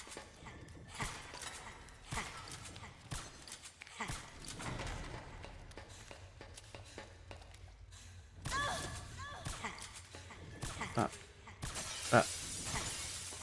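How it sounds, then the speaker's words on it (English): Glass shatters repeatedly in Metal Gear Solid 4, bursts of breaking panes mixed with game noise and gunfire-like thuds across a busy scene, with people talking over it. "She is smashing all the glass."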